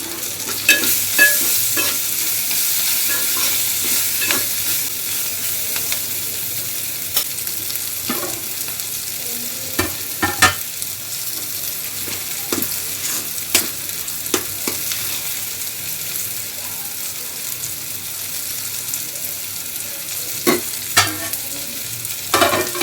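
Okra frying with chili powder and coriander powder sizzles steadily close by, with frequent sharp scrapes and taps of a spatula stirring the pan throughout and no talk.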